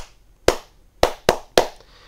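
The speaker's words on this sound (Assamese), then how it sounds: "অলপমান ৰব ৰোল এটা জোৰদাৰ হাত চাপৰি বজাই দিয়ক" Four sharp hand claps, close and distinct, with uneven spacing: one, a pause, then three in quicker succession before silence.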